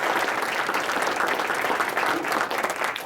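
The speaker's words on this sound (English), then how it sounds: "Please give a round of applause for our panel." An audience at a panel discussion gives a round of applause, with steady, dense clapping throughout and a slight fade at the end.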